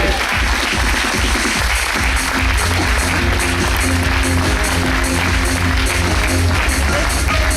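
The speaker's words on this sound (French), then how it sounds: "C'est quand vous voulez vos applaudissements" A crowd of spectators claps loudly and continuously at a juniors presentation event, the applause holding a steady, full wash of hands throughout.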